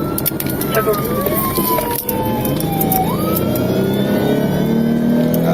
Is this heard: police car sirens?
yes